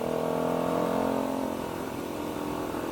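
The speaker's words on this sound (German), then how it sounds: "Ich hoffe, man hört den Auspuff jetzt und man hört auch vielleicht sogar im Video, dass das Ding ordentlich Fehlzündungen macht." KTM Duke 125 motorcycle with a new complete exhaust system, heard on a ride: a steady mid-pitched engine drone at moderate level, with a slight easing of revs partway through; no distinct backfire pops stand out.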